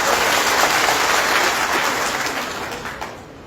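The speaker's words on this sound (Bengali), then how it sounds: "তার জন্য আমি একটা করতালি আশা করি" An audience applauds at a BNP district party meeting in Moulvibazar, a dense burst of clapping that holds steady and then tapers off over a few seconds.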